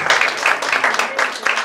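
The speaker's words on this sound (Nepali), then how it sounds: "कृपया जोरदार तालीले हाम्रो प्रशिक्षक विमर्श कणेजीलाई अभिनन्दन गर्नु होला" An audience applauds a trainer at the closing ceremony of a personality development and announcing course, with brisk, continuous clapping that swells in short waves.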